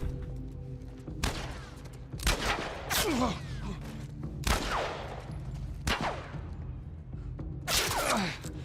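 Gunfire in the video game The Last of Us Part I: several sharp bursts of shots at irregular intervals, loud and close, over a steady droning background.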